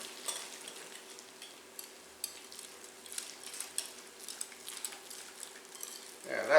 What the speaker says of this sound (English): 1 cup of small curd cottage cheese, add 1 large egg, and whisk them together.